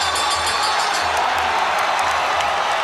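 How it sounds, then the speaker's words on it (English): A crowd at a ONE fight in Singapore roars in steady, dense cheering with scattered whoops, loud and continuous throughout. "The crowd going bananas in Singapore for him"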